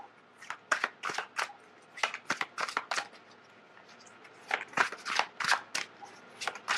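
Tarot cards being shuffled by hand, a series of crisp riffling bursts in quick clusters with short pauses between, close and fairly loud, with no talk.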